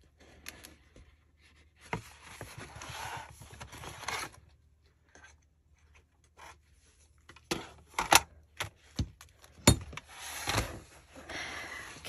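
Paper ephemera being cut for a journal, with close, crisp snips and scraping strokes that come in uneven bursts separated by quiet gaps, ending with a few sharper cuts.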